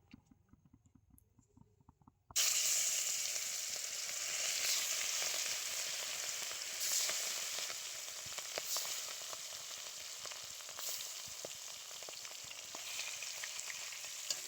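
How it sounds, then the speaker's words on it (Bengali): Rohu fish pieces frying together in hot oil in a wok, a loud, steady close sizzle that starts abruptly after a quiet opening and continues with crackling pops throughout, no voices. "সবকটা মাছ কিন্তু আমি কড়াইয়ের মধ্যে দিয়ে দিয়েছি, আর এগুলো একসাথে ভেজে নেব"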